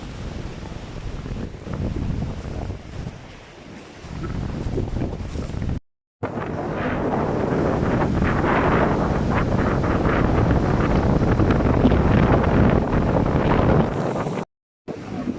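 Strong surf at Digisit Beach in Baler, a continuous roar of breaking waves heavily buffeted by wind on the microphone, with two brief dropouts and no talking.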